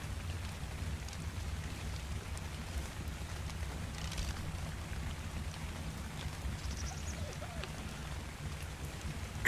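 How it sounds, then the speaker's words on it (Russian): Steady rain falls in the video game ARK: Survival Evolved, a continuous even hiss with a low rumbling undertone throughout, no talk heard. "Дождик пошел"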